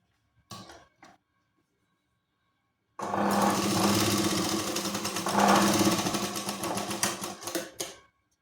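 A sewing machine double-stitching a katori blouse runs in one continuous loud, rapid mechanical rattle for about five seconds, following a couple of brief clicks and a pause of silence.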